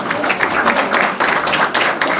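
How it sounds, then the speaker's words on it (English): Brief, steady round of applause from a modest audience at a public planning meeting, dense close hand clapping continuing throughout without talk. "so nice round of applause for her"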